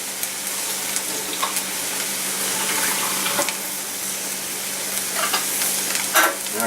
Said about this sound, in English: we gotta drain some of the water out of the corn